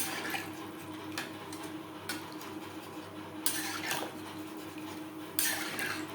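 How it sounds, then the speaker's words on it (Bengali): Water goes into a pan of frying potatoes for a Bhangor fish curry. Splashy bursts and clinks of the pot come over a continuous low kitchen hum, with two louder gushes near the end. "3-4 মিনিট আলু বেশ ভালো করে কষিয়ে নেওয়ার পর দিয়ে দেব জল"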